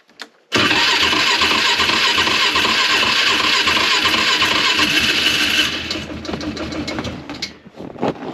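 A small engine at an off-grid homestead cranks and catches with a sudden loud burst, running steadily and roaring for several seconds before dropping to a rougher, quieter idle.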